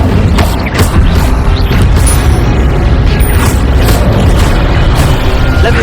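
Incendio fire spell cast in the Hogwarts Legacy video game, a loud, dense roaring blast of flame with crackling, mechanical texture that holds steady throughout, with no talking.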